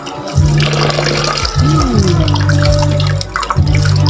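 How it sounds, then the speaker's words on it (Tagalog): Banana mushrooms rinsed and sloshed by hand in water, a steady splashing wash with a few swirls, heard up close over a sustained tonal hum in the background. "Hugasan natin ng mabuti yung banana mushroom."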